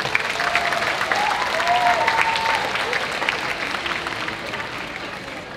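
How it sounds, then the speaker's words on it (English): Audience applause for a qasidah ensemble at a sacred music performance, a warm crowd clapping steadily and fading slightly toward the end, with faint murmuring voices underneath. "let's give them a warm round of applause"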